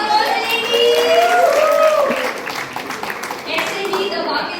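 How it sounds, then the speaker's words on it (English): Applause for the ladies at a 25th birthday party, a steady wash of crowd clapping and murmuring, with a voice speaking and singing-like tones over the top. "So use round of applause for all ladies."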